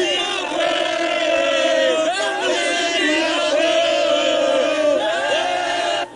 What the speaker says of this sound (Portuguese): A torcida do Paysandu fazia festa antes do jogo.